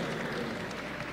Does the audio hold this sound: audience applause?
yes